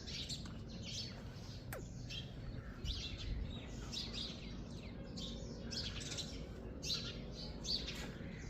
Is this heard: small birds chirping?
yes